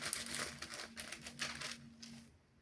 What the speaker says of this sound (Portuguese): Vamos lá folhear a Bíblia